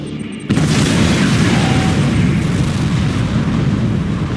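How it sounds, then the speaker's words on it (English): A Liquid Tiberium Bomb detonating in the Command & Conquer 3 strategy game: a sudden, very loud deep boom after a brief quiet start, swelling into a sustained roaring rumble that holds steady throughout. "Liquid Tiberium Bomb launched."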